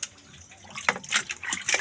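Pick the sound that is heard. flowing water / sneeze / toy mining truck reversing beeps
flowing water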